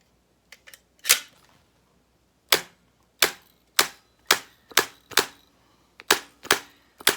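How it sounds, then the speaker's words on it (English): Staple gun driving staples through carpet into the smooth edge while reinstalling carpet in a flooded basement: a series of about ten sharp, loud snapping clacks at irregular intervals, close and alone with no talking. "I'll staple right into the smooth edge with that"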